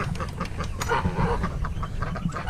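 A cluster of ducks and geese quacking and honking at close range on a farm, overlapping calls over a low background rumble.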